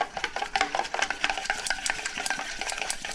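Chopsticks rapidly beat egg in a bowl for a tonkatsu coating, a close, steady patter of quick clicks and light liquid swishes without pause.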